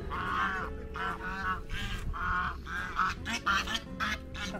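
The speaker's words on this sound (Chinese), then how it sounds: "大鹅啊，大鹅！" Geese on a farm in rural northeast China honk loudly and repeatedly at close range, a quick series of nasal calls overlapping one another with no talk.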